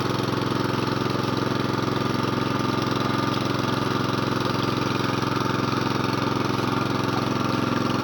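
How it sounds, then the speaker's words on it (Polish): A well-drilling pump engine idles slowly at a shallow well dig of about six to seven metres, giving a steady, loud, continuous mechanical drone with an even low throb and no speech. "Słyszycie Państwo, pompa pracuje wolno, na jałowych obrotach, powoli, nie naciskamy na to wiertło"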